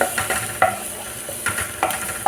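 Garlic browns in a pan while being stirred, giving a close, steady sizzle broken by several scraping stir strokes over a couple of seconds.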